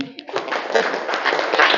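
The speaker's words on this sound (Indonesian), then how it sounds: "Tepuk tangan lagi" Students in a classroom clap their hands together in a dense, continuous patter of many overlapping claps, fairly close and steady, with some voices mixed in.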